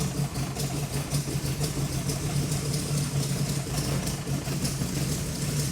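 A rebuilt car engine idles steadily after camshaft break-in, a close, even, low rumble running alone without talk.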